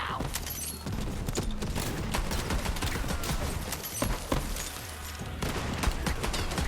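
Gunfire in the video game Borderlands 3 rattles on steadily throughout, a dense run of sharp shots and bursts layered over loud game action.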